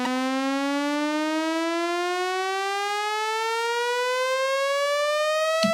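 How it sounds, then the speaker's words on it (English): Synth riser effect time-stretched to four bars: a single bright, buzzy harmonic tone gliding slowly and steadily upward in pitch, loud and sustained, cut off abruptly at the end. "Or you can go the opposite way and time stretch it out to, let's say, a 4-bar riser, like so."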